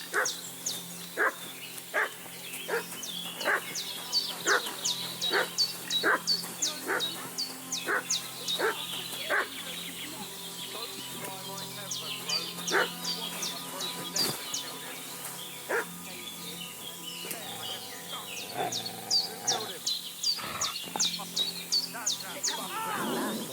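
Dog barking repeatedly in the video game Kingdom of Reverance, a steady run of sharp barks and yips over a game soundscape with bird calls and background music.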